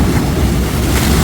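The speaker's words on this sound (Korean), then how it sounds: "배 지나간다" Wind-driven sea swell and broad surf wash off a rocky shore at Neungpo, Geoje, with a passing boat's low rumble blending into the steady, loud roar; no distinct engine note stands out from the continuous wave and wind noise.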